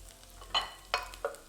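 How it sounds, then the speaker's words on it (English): Garlic being stirred in a hot pan for honey garlic chicken, three quick scraping strokes of a utensil over a faint low sizzle, close and fairly quiet, no voices. "Give it a stir until it starts to fragrance a little bit."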